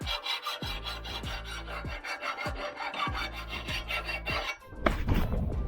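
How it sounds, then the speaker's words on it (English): A hand file is pushed in repeated close strokes over a sharp metal edge to smooth it, each stroke a gritty rasp in a steady rhythm, with no talk. "The edge is sharp, so I need to file to smoothen it. Now for the smooth file."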